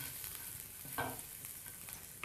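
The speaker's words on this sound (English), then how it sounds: "Garlic cooks very, very quickly, so it needs a very short time in the pan here on its own." Garlic and ginger frying in a pan, a faint continuous sizzle with a brief stir or scrape near the middle, quiet and close, no voices.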